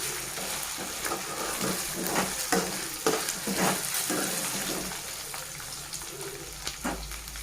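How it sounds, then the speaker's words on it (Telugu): Taro root (chama gadda) curry for an Andhra-style pulusu is stirred in a pan, a steady frying sizzle broken by repeated scraping strokes of the spoon, close and alone without any talking. "కలుపుతూ ఉండాలండి, లేకపోతే కొంచెం కింద మాడిపోతుంది"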